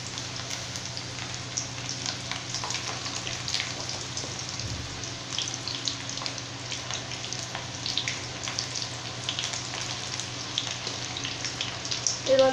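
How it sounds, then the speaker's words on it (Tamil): Ragi pakoda batter frying in hot oil, a continuous bright crackling sizzle with fine popping bubbles, close and steady from start to finish with no talk. "இப்போ எண்ணெய் நல்லா சூடாயிடுச்சு. இப்போ நம்ம பக்கோடா போட்டுக்கலாங்க."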